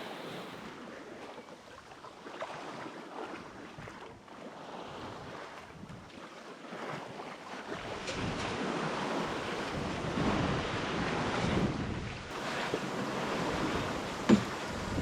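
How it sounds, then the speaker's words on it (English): Ocean waves and gusting wind while sailing offshore between Florida and Guatemala, steady rushing wash and wind buffeting the microphone, swelling louder partway through, with no talking. "Life on the ocean. It sure is beautiful."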